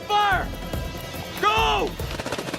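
Action-movie gunfire erupts in loud, sharp bursts, mixed with shouting voices and cinematic sound effects in a military thriller battle scene.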